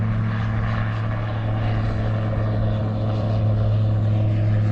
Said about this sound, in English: Jeffro, there goes Jeffro, there goes the plane